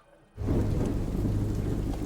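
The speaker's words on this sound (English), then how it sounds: "Doesn't rain a lot in these shows." A thunderstorm in a Clone Wars episode: after a quiet moment, heavy rain and a deep rolling rumble of thunder surge in loudly and continue as a dense, steady roar.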